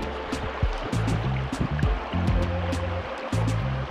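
A river filling with autumn leaves during trout season rushes steadily and close by, a continuous watery hiss with a tonal, music-like layer running over it throughout.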